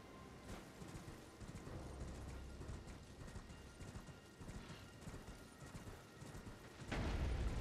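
A horse gallops in the video game Elden Ring, a steady rhythmic clip-clop of hooves with some rumbling game effects and a heavy impact near the end.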